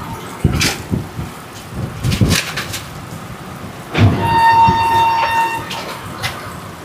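Heavy rain and thunder surround the Kumbh Express as it pulls out of Mokama station. Steady rain hiss is broken by a few dull thumps, then a long, sustained horn-like tone rises over the downpour.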